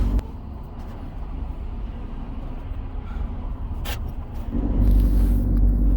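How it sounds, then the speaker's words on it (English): A diesel truck with a DEF fault from a dirty pump filter, limited to about 5 mph, backs slowly into a parking lot. Its steady, close engine rumble grows louder and heavier near the end, with no talking. "So I'm going to back into the parking lot and see what I can do with this truck."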